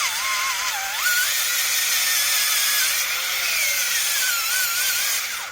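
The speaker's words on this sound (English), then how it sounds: "take the drill, and then just force it down like this" A hand drill bores down into wood in a shrill, sustained whine with wavering pitch as the bit is forced through the board, loud and close, alone without speech.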